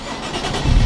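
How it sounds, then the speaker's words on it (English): A Nissan 370Z NISMO engine cranking and catching, a short close starter whir that swells into a louder low engine rumble. "Hit the start and stop engine button here"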